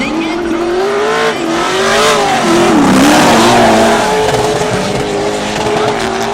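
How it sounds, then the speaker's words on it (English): A Toyota Corolla drift car screams through a drift final, its engine revving hard and tires squealing loudly and continuously as it slides sideways, close and with no talk over it. "make that underpowered car get through the whole track sideways"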